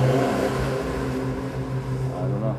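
A race car passes by outside near a workshop, its engine note a steady, fairly loud drone with a slight rise and fall across the pass.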